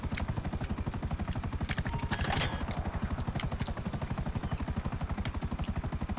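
Helicopter in flight, its rotor producing a fast, even chopping pulse that runs steadily throughout, loud and close, with a few faint clicks and a brief murmur in the middle.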